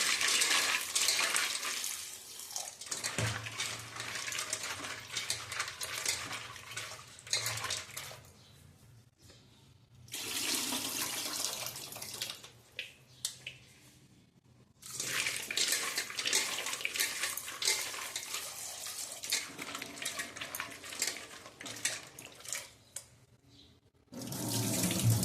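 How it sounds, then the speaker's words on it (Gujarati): Dried carrots are washed under running tap water, a strong gushing splash into a sink that runs in long stretches, stops briefly and starts again, close and alone. "એને 2 પાણી આપણે વોશ કરી લેશું અને થોડીક વાર પલાળી દેશું"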